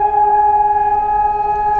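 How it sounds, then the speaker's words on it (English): Air raid sirens wail in central Sofia, Bulgaria, a loud, steady multi-tone drone holding unbroken throughout with no voices. "There's like air sirens and everyone's just stopped."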